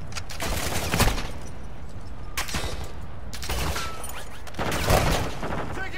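Call of Duty gunfire in a co-op match: sustained bursts of shots and booms, dense and fairly loud, with heavier volleys around the first and fifth seconds.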